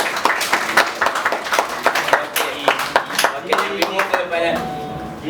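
Scattered clapping from a small audience at a panel talk during a Malaysian Vocaloid fan event, with sharp irregular claps that thin out and fade near the end as a few voices start speaking.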